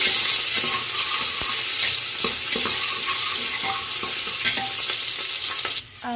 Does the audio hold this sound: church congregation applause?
no